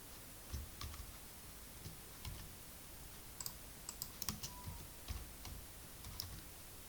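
Code typed on a computer keyboard in quiet bursts of soft key clicks, some quicker runs and single taps, close but faint, with no talking.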